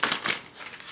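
Tarot cards shuffled by hand in a quick riffle, a close, crisp papery flutter with a couple of brief bursts, lasting about a second.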